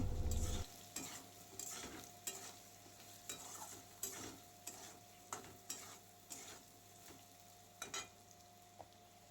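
Potatoes fry in a pan with salt and turmeric, a soft steady sizzle broken by regular scraping stirs of a spatula, roughly one per second, close by and without talk.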